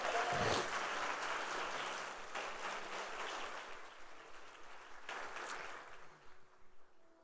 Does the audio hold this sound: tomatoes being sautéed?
no